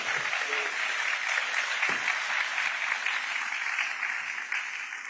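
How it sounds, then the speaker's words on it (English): Audience applause at a business summit, the B20 Summit in Brazil, a steady wash of many hands clapping that holds fairly evenly throughout, moderately loud and without distinct individual claps standing out. "Please join me in giving a round of applause to Dan."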